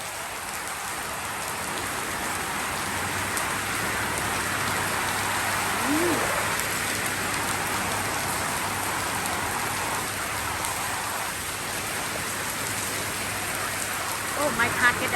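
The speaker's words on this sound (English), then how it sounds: "Now it's raining." Heavy rain pouring down steadily after a hot spell, a dense continuous hiss of drops striking surfaces nearby, with occasional faint sounds in the background and no talk.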